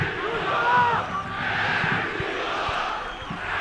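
Football stadium crowd backing Paraná in a Brazilian cup match, a steady roar of fans with chanting swelling and settling over a few seconds, distant and continuous.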